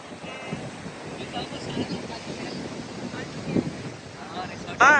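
Wind and surf at the edge of the Pacific Ocean on the Central California coast near Carmel and Big Sur, a steady low rumble of gusts against the microphone with washing waves, voices chatting over it and a brief whistle-like tone at the end.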